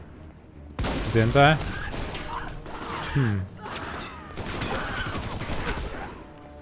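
Gunfire in the Alpha Protocol video game rattles in fast bursts and scattered shots, mixed with impact smacks and game noise, while a voice talks over the action.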